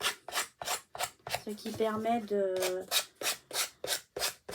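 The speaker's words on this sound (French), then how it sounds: "je prends une lime. Je lime tous les côtés." A file rasps rhythmically across an edge in quick repeated strokes, pausing briefly while a person speaks, then resuming the scraping back-and-forth.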